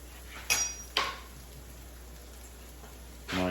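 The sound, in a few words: stirring scallop pasta in a pan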